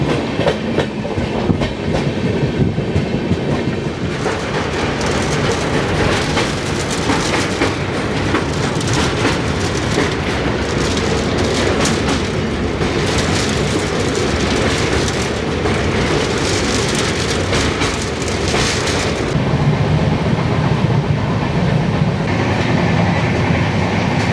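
The 12882 Puri–Shalimar Garib Rath Express pulls out of Cuttack station with a loud, steady rail rumble and a running clickety-clack of carriages heard from on board, and no talking.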